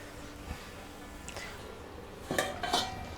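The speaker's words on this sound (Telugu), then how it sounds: "ఇవ్వనండి మూత పెడుతున్నాను." Metal lid set onto a pot of small fish curry on a gas stove, a few light clinks and a clattering settle near the end, close and alone.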